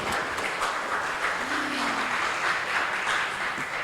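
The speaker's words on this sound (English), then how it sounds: "Let's have a round of applause to" Conference audience applauding after a healthcare safety presentation, a dense, even wash of many hands clapping that holds steady throughout, with a faint brief tone in the middle.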